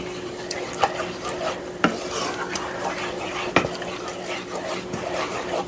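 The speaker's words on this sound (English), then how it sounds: "I'm going to give this a stir." A pot of food being stirred in a home kitchen, soft scraping and a few sharp clinks of utensil against the pot at irregular moments over a low background.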